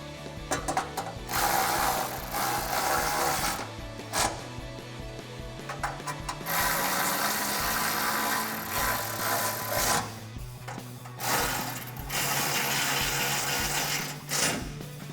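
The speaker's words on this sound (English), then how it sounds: "now let's tighten everything down with our 10mm socket" A ratchet turning a 10mm socket tightens exhaust bolts under a Jeep Gladiator JT, giving bursts of rapid, close mechanical clicking broken by short pauses.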